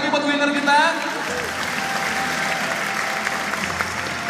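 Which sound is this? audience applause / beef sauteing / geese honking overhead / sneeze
audience applause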